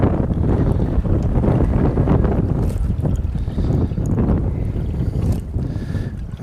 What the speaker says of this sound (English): This wind is blowing the opposite direction of the current today